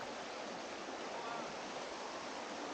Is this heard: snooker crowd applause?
no